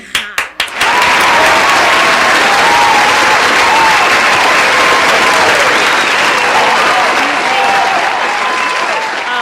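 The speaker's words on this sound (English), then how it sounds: "A round of applause for you." Audience applause for a female guest on a South African talk show, a few sharp claps opening into sustained loud, dense clapping from a studio crowd that holds steady and only slightly thins toward the end.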